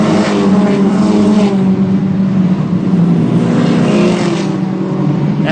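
Ponderosa mini stock race cars roar around a track on the final lap of a memorial race, with a loud, continuous engine drone that swells slightly as cars pass.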